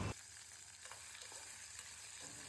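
Green chillies, dried red chillies, onion, potato and carrot hit hot oil with seasoning seeds, giving a soft, steady sizzle and crackle. A brief louder burst at the start settles into an even, faint frying hiss.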